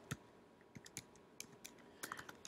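Keys tapped on a computer keyboard while a website address is entered, a few scattered, fairly faint clicks in short irregular bursts with pauses between them.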